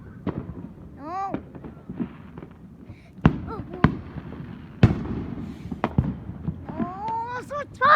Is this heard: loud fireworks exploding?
yes